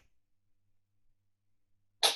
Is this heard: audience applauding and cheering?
no